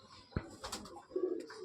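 A pair of dhari pigeons coo softly up close, with a short low throaty coo among light rustling and small bumps.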